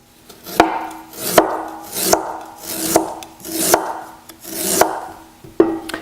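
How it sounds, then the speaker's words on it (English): A knife cuts very thin slices of fresh ginger on a board, making about eight crisp, evenly spaced chops close up, each with a short scraping rasp. "And then what you're going to have to do is cut very, very thin slices."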